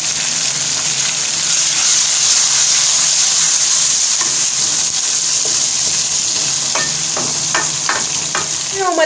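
Tomatoes tipped into a pan of frying mixed vegetables, giving a loud, steady sizzle with stirring and scraping toward the end, no talking.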